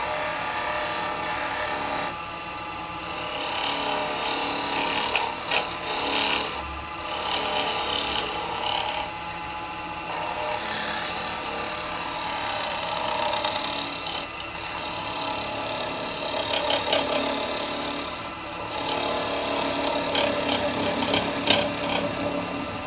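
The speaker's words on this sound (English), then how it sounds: "go over to the only gouge that can ever finish the bottom of a bowl" A 12mm bowl gouge cuts across the bottom of a wooden bowl spinning on a lathe, giving a steady, close scraping hiss with a rough rasping texture and brief dips and surges as the tool moves.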